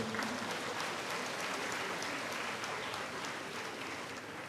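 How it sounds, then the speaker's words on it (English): Sustained audience applause at an event, a dense even wash of clapping heard at a moderate distance, holding steady and easing off slightly toward the end. "please give yourself a round of applause"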